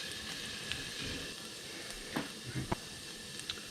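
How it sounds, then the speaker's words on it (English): Savory oatmeal with garden vegetables cooks in a pan with a low, steady sizzle and hiss, broken by a few light stirring scrapes and taps. "And you just want to occasionally stir this."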